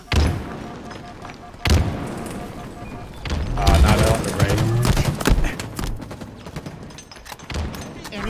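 Gunfire in the video game Halo Infinite during a ranked match: scattered sharp shots and heavy thuds, with a denser burst in the middle, loud and close, alongside game voice lines and players talking.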